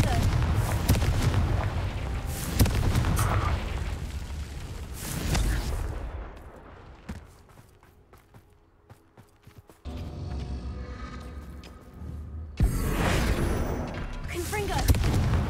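Repeated Confringo fire-spell blasts in the Hogwarts Legacy game, loud booming bursts with rumbling tails, a quieter lull in the middle before more blasts return, with a voice speaking between them.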